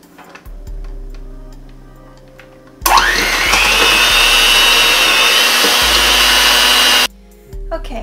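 An electric mixer creams room-temperature unsalted butter for a chocolate cake filling. The motor kicks in loudly after a few quiet ticks, whirs with a rising pitch for about four seconds, then cuts off abruptly.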